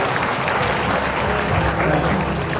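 Steady applause from the audience at a women's international handball tournament in Busan, a dense, even wash of clapping filling the hall from start to finish.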